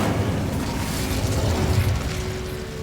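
A fire spell cast in Hogwarts Legacy, a dense, steady burst of roaring, explosive fiery noise filling the whole short moment, loud and close without any voices.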